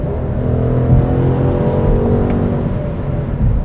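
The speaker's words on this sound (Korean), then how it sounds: "이런 부드러운 엔진 사운드와 이런 가속감 진짜 대박입니다" A smooth BMW M850i Gran Coupe engine hums steadily from inside the car as it accelerates, a low continuous drone with a faint whir and no voices.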